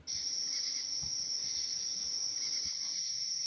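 Continuous high-pitched cricket chirping at night, a steady shrill drone with a couple of faint low thumps underneath.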